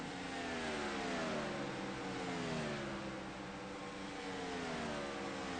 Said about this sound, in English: Engine's still running.